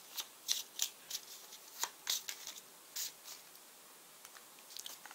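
Tarot cards being shuffled and picked out, a scatter of soft, quiet card slaps and flicks arriving in irregular bursts with short pauses between, close up and without any speech.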